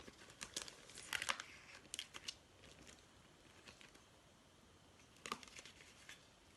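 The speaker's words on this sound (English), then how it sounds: "I'm gonna to open this packet to show you the parts of this bird." A paper craft materials packet for a paper plate parrot is opened with bursts of crinkling and tearing plastic or paper, a few sharp rustles near the start and again around five seconds, fairly close and quiet, with no talking.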